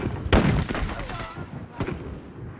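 Cluster strike explosions in Call of Duty: Modern Warfare, with a heavy booming blast followed by further thudding detonations, loud and close at first and then rumbling, while players talk over them.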